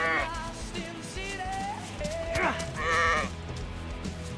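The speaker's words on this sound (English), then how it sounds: "Is that sheep?" A video game sheep bleats several times, wavering cries rising over steady game sounds, with a louder bleat near the end.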